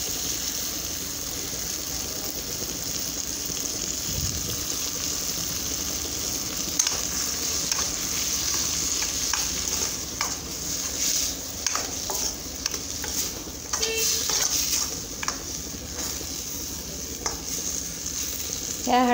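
Hadsan wild vegetable with crushed peanuts being stirred in a hot pan: a steady sizzle runs under repeated scraping strokes of the spoon, close and moderately loud, with no talking.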